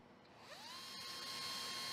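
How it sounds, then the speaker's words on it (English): A special step drill bores through hardened glazing sealant and the rear of a SWISSPACER AIR spacer, a steady high-pitched whine that climbs in pitch as it spins up and holds, loud and close, with no talk. "The holes are carefully drilled in both the sealant and the rear of the spacer in a single step using a special step drill."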